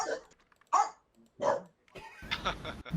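A dog gives three sharp, loud barks spaced about a second apart, close by; then a voice talks over it.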